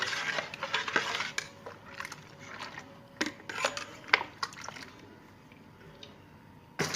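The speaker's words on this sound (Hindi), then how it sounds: "अब हम इसको अच्छी तरह से मिक्स कर लेंगे" A metal spoon stirring falsa juice in a glass or vessel, producing irregular clinks and scrapes against the sides with short bright taps spaced unevenly, close and fairly quiet, no talking.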